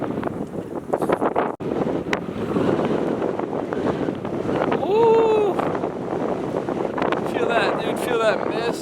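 Wind and mist buffeting a microphone on the exposed granite summit of the Beehive Trail in Acadia National Park, a steady loud roar with a person whooping and talking over it.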